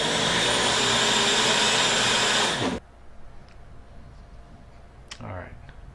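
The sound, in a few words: blender pureeing tomatillos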